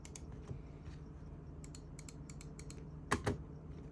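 Razer Viper V3 Pro gaming mouse buttons clicking, a series of quiet, crisp clicks at an uneven pace with a sharper pair near the end, close and faint against a low background hiss.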